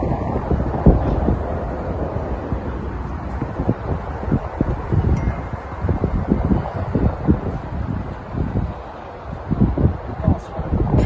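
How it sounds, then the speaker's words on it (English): Strong gusty wind buffets the microphone with low rumbling roar, rising and falling continuously throughout. "it's quite a windy day at the minute"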